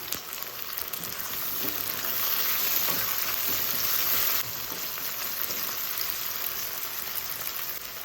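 Tomatoes added to sautéed onions in a hot pan for a bottle gourd curry: a steady, rain-like frying sizzle that holds evenly throughout, swelling slightly midway, with faint stirring underneath.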